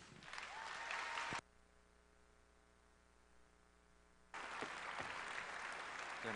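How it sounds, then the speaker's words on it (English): A school opening-day crowd applauds the introduction of the Barren County Schools superintendent. Dense, steady clapping is cut off by a quiet humming gap, then resumes just as loudly. "With your applause, Mr. Bo Matthews."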